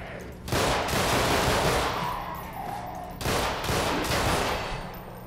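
Heavy automatic gunfire in the game Underhell, two long loud bursts of rapid shots close by, separated by a brief lull and fading at the end.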